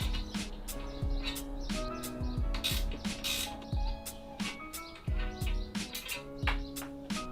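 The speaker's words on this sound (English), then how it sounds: "We're just going to use a 10mm spanner and a 4mm hex key" A 10mm spanner and 4mm hex key working handlebar bolts on a suspension fork, with repeated metallic ratcheting clicks, creaks and tool taps, close and fairly quiet, with faint bird chirps behind.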